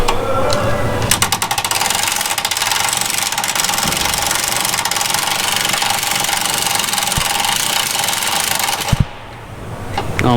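A power tool rattles steadily while removing a bolt during a Tomei MX7960 turbo install on a Hyundai Genesis Coupe 2.0. The loud, continuous mechanical hammering runs for several seconds, then abruptly cuts off.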